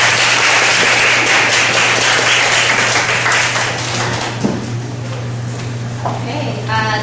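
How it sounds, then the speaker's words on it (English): An audience at a talk applauds steadily with dense, continuous clapping that holds for several seconds, easing slightly toward the end. "please give her a thunderous applause."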